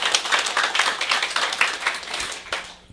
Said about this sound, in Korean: 예, 맞으시면 박수 한번